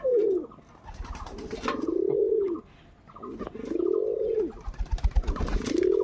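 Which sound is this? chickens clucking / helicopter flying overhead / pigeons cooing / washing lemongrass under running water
pigeons cooing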